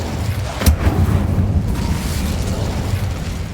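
A spell burst of Incendio fire magic in the video game Hogwarts Legacy, a sharp whoosh-like hit near the start followed by a steady low rumbling roar that runs on loudly to the end.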